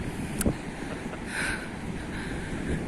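Wind blows on a beach in the UK, buffeting the microphone with a steady rushing roar and a few sharper gusts, loud and close, with no talking.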